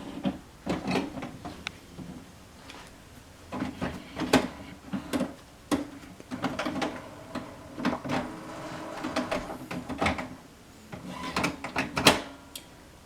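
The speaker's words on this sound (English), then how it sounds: "Now I'll go ahead and turn on the printer" An old HP PSC 1315 inkjet printer powers on and runs its startup cycle, giving a close series of irregular mechanical clunks, clicks and short whirring bursts from the carriage and rollers.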